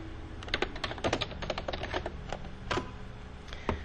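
Typing on a computer keyboard: quick, irregular keystrokes close up, with small bursts and short pauses and no voices.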